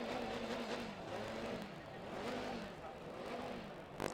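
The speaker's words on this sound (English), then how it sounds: "As we said, Ed, these petrol cars are a bit louder than the electric ones." A petrol Formula SAE race car at an Australasian endurance event drones past steadily with a wavering engine note, heard at a moderate distance and fairly faint, amid some background commentary.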